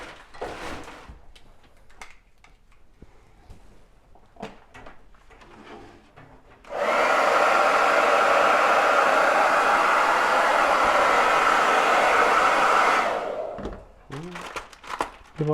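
A hair dryer drying paint on a chalk sign, one loud continuous blowing roar of about six seconds that starts and stops abruptly, between stretches of quieter handling noises.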